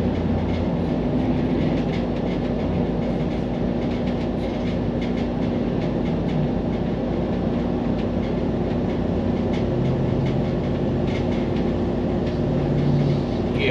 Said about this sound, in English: I got a stovetop cover rattling in the background.